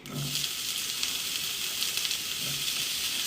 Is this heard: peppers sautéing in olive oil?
yes